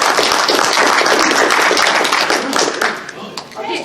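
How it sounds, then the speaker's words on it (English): Audience applause and clapping at a furry convention open mic, a dense, loud burst of many hands that thins out and fades toward the end. "one more round of applause, please."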